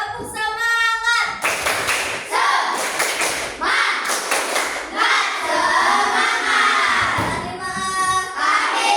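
Elementary school children in a classroom play a rhythmic clapping game, with bursts of sharp, loud group claps in patterned sequences mixed with excited voices and shouting nearby.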